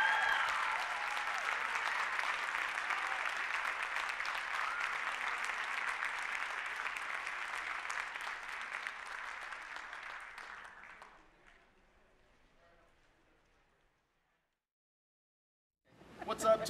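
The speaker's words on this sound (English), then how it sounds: "Give them another round of applause." A high school band concert audience breaks into sustained applause that holds steady for about ten seconds, then fades to near silence before a loud sound starts at the very end.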